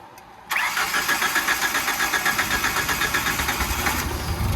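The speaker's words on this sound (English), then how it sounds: "we're gonna see if this thing runs and idles by itself" Tennant 355 ride-on floor sweeper engine cranks and catches at once, then settles into a loud, steady mid-pitched idle with a rough, pulsing rhythm that runs to the end.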